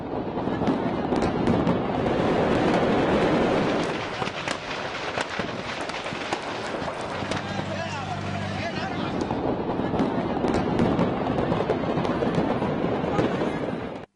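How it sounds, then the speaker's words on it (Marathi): Firecrackers burst in a fire engulfing a row of cracker shops in Aurangabad, a loud, dense crackle of rapid pops and bangs with rushing, wind-like roar throughout, briefly easing midway before surging again. "कानठळ्या बसवणाऱ्या आवाजानं आगीची भीषणता काही क्षणातच जाणवून दिली"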